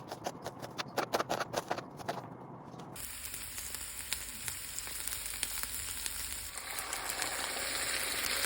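Liver adobo cooking in a pan gives a steady broadband sizzle that takes over after a few seconds of scattered clicks and clatter. It grows slightly louder toward the end, and no one speaks.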